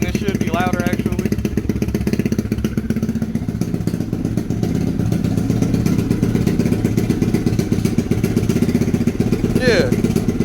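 A Lifan KP Mini 300 single-cylinder motorcycle engine with a custom exhaust idles steadily and loudly up close, a rough rapid putter running throughout, with a brief higher whine near the end.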